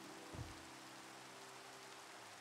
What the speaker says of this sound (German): Ihr seht schon, es fängt schon wieder zu regnen.